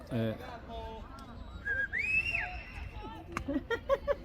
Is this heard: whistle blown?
yes